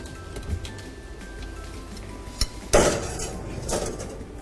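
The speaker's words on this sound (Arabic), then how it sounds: "ندخل الفرن" A baking dish of zucchini meatballs topped with cheese goes into the oven, with a clatter of dish and oven rack and a sharp metallic clank and rattle near the end.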